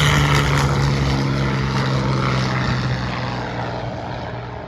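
A P-40 warbird propeller fighter passes overhead at an airshow, its loud piston-engine roar filling the air and slowly fading as it moves away.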